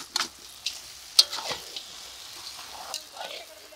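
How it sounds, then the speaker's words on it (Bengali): Small metal spatulas clanking against each other and the pan while stirring frying food in a family kitchen, several sharp irregular clinks over a soft sizzle, fairly close. "খন্তি খন্তি ঠোকাঠুকি লেগে যাচ্ছে"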